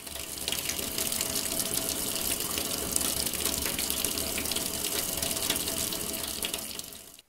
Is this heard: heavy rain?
no